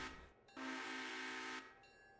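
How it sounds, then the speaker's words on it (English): A train horn in a video game sounds one sustained, steady blast lasting about a second, moderately loud over a quiet background, with fainter tonal sounds before and after and no talking. "You wonder who's blowing the horn?"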